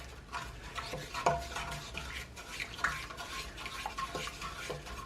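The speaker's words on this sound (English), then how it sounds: "I'll give that a quick stir." A spoon stirs a yeast and sugar mixture in a bowl, giving soft continuous swishing with a few light clinks against the side, fairly quiet and with no talking.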